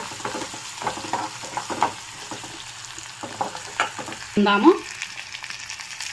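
Garlic cloves and two dried red chillies fry in oil with onions and tempering seeds for a gongura chutney. A soft, steady sizzle runs under light stirring clatter, with a brief louder burst near the end.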